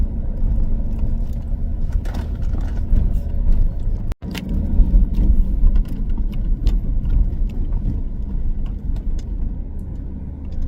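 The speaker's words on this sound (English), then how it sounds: "Look at all the traffic on the freeway." Steady freeway traffic rumble near 27th Avenue and the Indian School Road area, a continuous low roar of passing cars heard from inside a vehicle, with one brief dropout partway through.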